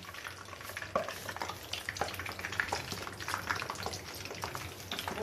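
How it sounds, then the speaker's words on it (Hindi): Potato tikki frying in oil in a kadhai gives a steady low sizzle with occasional sharper crackles and light scraping, heard close and quiet with no talk. "यहाँ पे मेरे पास कढ़ाई में तेल था, तो इसी में मैं आलू की टिक्की फ्राई कर रही हूँ।"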